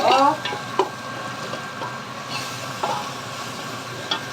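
Ginger garlic paste is stirred in a hot pot while chicken biryani cooks, giving a steady sizzle and frying hiss with a few sharp scrapes and clinks of the spoon.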